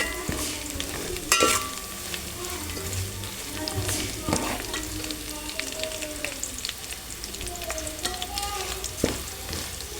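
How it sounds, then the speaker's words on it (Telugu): Tempering spices and curry leaves crackle and sizzle in hot oil, close up, with scattered pops and a steady frying hiss throughout. "ఇప్పుడు పోపు వేగిపోయింది కదా"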